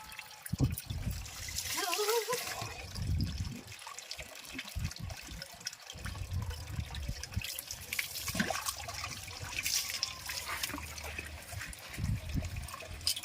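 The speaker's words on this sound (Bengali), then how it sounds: "তো গায়ে জল দিই, দেখি কেমন ঠান্ডা।" Cold water poured over the body while bathing, with splashing gushes and trickles in uneven bursts close by, the flow rising and falling across the stretch.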